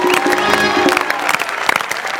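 A stage comedy audience applauding a school's 25th-anniversary welcome, a dense burst of clapping mixed with a faint tonal backing, continuous throughout.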